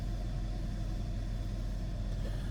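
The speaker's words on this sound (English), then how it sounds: "Barely hear this car run." A 2008 Jaguar XJ Super engine idles quietly and evenly, a low steady rumble with no revving, heard close up without talk.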